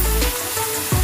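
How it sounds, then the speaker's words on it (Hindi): Masala frying in oil on a low flame for a matar butter paneer curry, a soft, steady sizzle with a couple of low clunks from stirring, close and fairly quiet. "जो मसाला फ्राई करेंगे इसमें लो फ्लेम में करेंगे"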